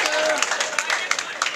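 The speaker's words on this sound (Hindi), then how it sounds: "ये शकील भाई देखिए, जोरदार तालियों से इनका इस्तकबाल फरमा दीजिए।" An audience at a mushaira, an Urdu poetry gathering, claps in a dense, sustained round of applause, with sharp individual claps popping out and voices audible beneath it.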